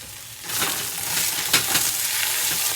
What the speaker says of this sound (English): you're going to wait until you hear more of a sear start to form